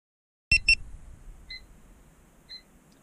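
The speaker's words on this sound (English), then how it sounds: "the alarm is going off again" Alarm on a malfunctioning refrigerator in a custom-ordered Forest River Sunseeker RV: two sharp clicks, then two short, fairly faint beeps spaced about a second apart in an otherwise quiet interior.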